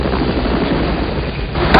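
A helicopter's steady rotor drone and rumble fills a river setting, loud and close, with a constant wind-like roar throughout and no voices.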